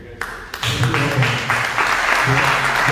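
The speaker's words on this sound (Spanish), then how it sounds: "Don Romero, un aplauso de los para don Romero." A council-meeting audience breaks into applause, rough uneven clapping that starts abruptly and continues close and loud, with voices mixed in under it.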